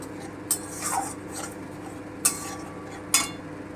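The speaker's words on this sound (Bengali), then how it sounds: "এবারে আমি টমেটো পেস্টটা দিয়ে দিচ্ছি একটু নেড়ে নেবো" A spoon stirs tomato paste into a Bengali rui fish kalia masala in a pan, producing soft scraping and three sharp metallic taps against the pan over a low steady background hiss.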